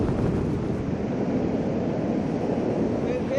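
Storm Darragh winds gusting on the seafront at Skegness, a loud continuous roar buffeting the microphone with no letup.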